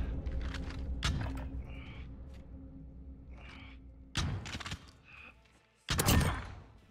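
Gunfire in Call of Duty: Modern Warfare during a 1v1 match, several sharp shots in short bursts, with a loud blast near the start, another cluster mid-way and a final heavy shot, over constant game background noise.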